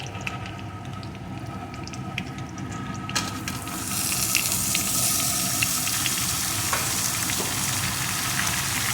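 Potatoes and pointed gourd frying on low heat, a soft sizzle that grows into a louder, steady crackle midway, with occasional light stirring clicks and no speech.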